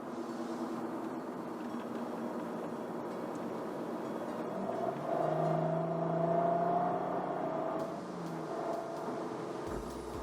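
Engine of a twin-turbo Cadillac CTS-V Sport pulling through gear shifts with throttle blips, a moderate droning tone that climbs, swells and drops back as gears change, with no talking.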